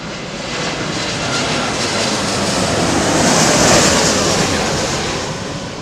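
A Lufthansa airliner at London Heathrow Airport passes with a loud, broad jet engine roar that swells to a peak and then eases slightly, with no voices.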